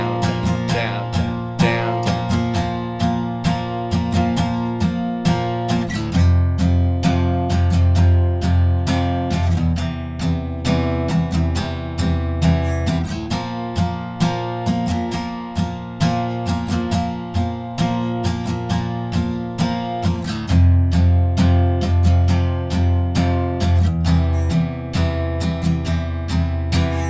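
An acoustic guitar strums the chorus of a song with a steady driving rhythm of down-strokes, its full chords ringing clearly for the whole stretch with regular accented attacks and no voices.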